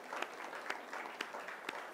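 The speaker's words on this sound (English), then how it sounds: "let's give a beautiful round of applause for our Rishikars." Audience applause at a live satsang gathering, a steady wash of many hands clapping at moderate volume with a few sharper claps standing out, and no voices over it.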